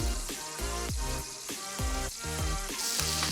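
Steak searing in a pan with melted butter, herbs and garlic, giving a steady loud close sizzle and crackle with no talking.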